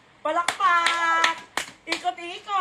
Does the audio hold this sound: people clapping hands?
yes